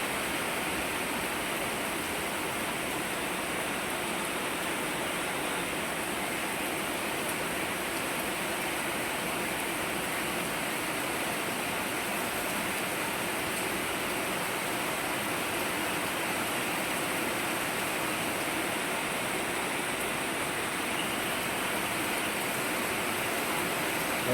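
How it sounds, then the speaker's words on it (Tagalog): Heavy rain pouring down continuously, a dense steady hiss that stays loud and unchanging throughout with no voices. "Ang ulan."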